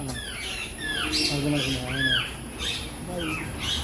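A parrot that mimics sounds squawks and whistles in a string of rising and falling calls, fairly close and moderately loud, with faint background noise.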